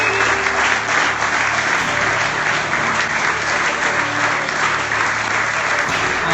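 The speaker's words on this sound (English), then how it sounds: "As you can hear from the rapturous applause going around here" Steady, dense applause from a crowd at a UK Open footgolf tournament, loud and sustained throughout as the winner is celebrated outdoors.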